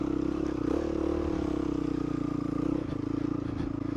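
A motorcycle engine idles unevenly at altitude on a rocky creek track, a steady low drone with slight wavering, close and continuous, with faint clatter over it.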